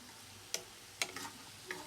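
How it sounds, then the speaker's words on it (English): Seasoned vegetables are stirred in a frying pan with a few sparse, quiet scraping clicks of the utensil against the pan over a faint background. "we're going to start just stirring these vegetables a bit"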